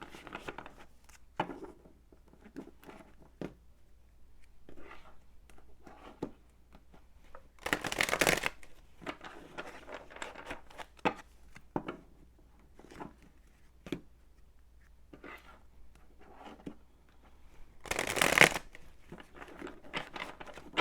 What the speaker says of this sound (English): let's do a couple more shuffles and we'll get into our reading